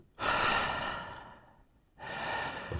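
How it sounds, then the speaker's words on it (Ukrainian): Deep, forceful breaths during a Wim Hof breathing session: a long loud inhale and exhale, a brief pause, then another strong breath starting, close and alone. "Вдих, видих."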